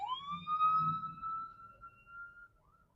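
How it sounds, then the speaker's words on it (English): A single ambulance siren wail rises and holds steady, then fades out, sounding some distance away over low traffic rumble. "I cannot believe how these cars are still going and there is an ambulance."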